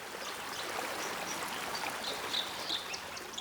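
A forest stream in mid-November, its banks strewn with fallen leaves, flows steadily with a dense, continuous rushing and trickling, close and fairly loud, with faint bird calls on top.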